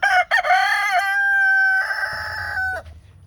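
Backyard chickens, with a rooster crowing loud and close in long drawn-out calls, followed by softer clucking from the flock.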